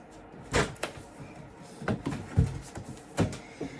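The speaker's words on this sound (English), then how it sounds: "Knocking everything over." Several books and objects knocked over on a shelf while picking out fantasy reads, giving a few separate thuds and clatters spread over a few seconds, fairly close.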